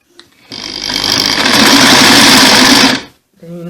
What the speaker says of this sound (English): Then you now start sewing.